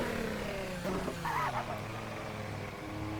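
The RSS Formula Hybrid X racing car in the Assetto Corsa driving game has a steady engine drone whose pitch sweeps down, as on a deceleration, with a brief burst of higher tones midway.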